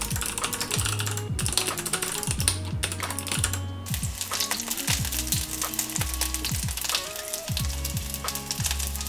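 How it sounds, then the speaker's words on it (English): Rapid, steady clicking of a computer keyboard being typed on up close, an uneven rhythm of keystrokes with a faint hum behind it. "start typing out some of the feedback I have for this"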